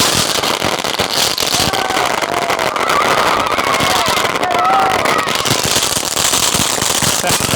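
A Sivakasi 'Top Gun' firecracker bursts in a continuous loud crackling barrage, dense rapid pops and hissing sustained without pause throughout, close and intense.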